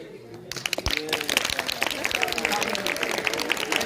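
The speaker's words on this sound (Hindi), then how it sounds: "फीता खुलते ही तालियां बजानी इसके लिए" An audience clapping at a school ribbon opening for a new year greeting card making competition, a steady patter of many hands building in density, with voices talking over it.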